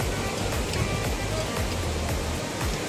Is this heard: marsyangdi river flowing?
yes